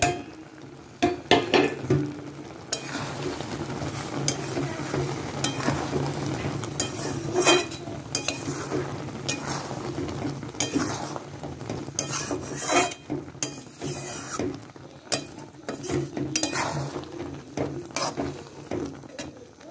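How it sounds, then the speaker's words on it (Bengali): Spice powder is stirred into jujube pickle in a pan over a gas flame, with repeated scraping, clattering spoon-on-metal knocks and a soft frying hiss underneath, fairly close and busy throughout. "যে মশলাটা আমি এই যে করে রেখেছিলাম, এই যে মশলার গুঁড়োটা, এটাকেই আমি মানে পুরোটাকে মিশিয়ে দেব"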